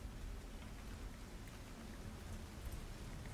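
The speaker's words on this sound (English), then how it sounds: "you tend to just end up ignoring the constant rain" Steady rain falls constantly as a dense, even wash of noise with no breaks, a continuous ambient downpour and no voices.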